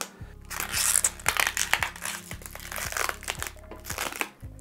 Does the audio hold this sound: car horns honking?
no